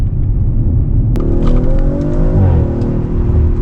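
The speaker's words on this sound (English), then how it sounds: "The sound is way better when you shift. It pops like a motherfucker with just stock exhaust." An Audi RS5 on its stock exhaust gives a loud, deep engine drone that breaks with a sharp crack at a gear shift, then its pitch climbs and settles with the engine's rumble.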